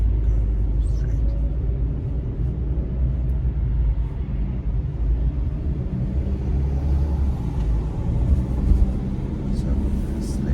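A car drives along a snowy winter road, giving a steady low rumble of engine and tyres heard from inside the cabin, with a driver talking throughout.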